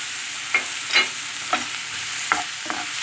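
Sliced sucuk sausage and onions fry in a pan with a steady, even sizzle, broken by several short scraping clinks of a utensil stirring them, close and alone.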